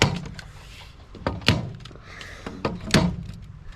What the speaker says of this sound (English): A little mini staple gun.